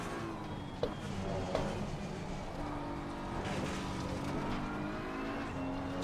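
Ferrari GT race car in the Assetto Corsa Competizione sim racing game, lapping Donington Park, with a steady, loud engine drone and shifting tones throughout.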